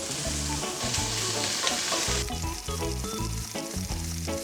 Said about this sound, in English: All right, so the bacon is rendered.